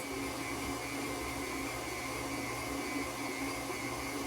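An electric mixer creams butter and sugar for a rum cake, a steady, loud motor whir holding constant without pause and with no talk over it.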